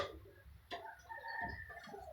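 A pet red chicken wandering indoors in a house gives a few soft clucks and short calls, close by and fairly quiet, with light household rustling between them.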